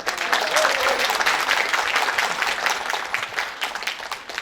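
Applause rises from an audience at the opening ceremony of the SSCCF 2023 choir festival as a competing choir is introduced, a dense patter of clapping that gradually thins out.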